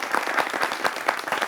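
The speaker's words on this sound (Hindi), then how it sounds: "ताली बजाकर स्वागत कर सकते हैं।" An audience at a televised public event about local trade and festivals in India gives steady, dense applause to welcome guests, with continuous clapping from many hands throughout.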